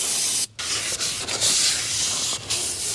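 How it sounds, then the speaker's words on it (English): Brake parts cleaner from an aerosol can hisses in loud, sustained bursts onto a paper towel during Honda Odyssey rear brake work, with a few brief breaks between sprays. "I usually just spray that on a paper towel and then just wipe it down"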